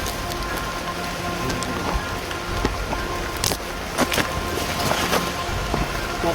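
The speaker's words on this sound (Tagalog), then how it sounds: "Tayo ulan na, umulan na." Steady rainfall patters on surfaces outdoors, a dense, even hiss with scattered louder drops and light wind, with no talking.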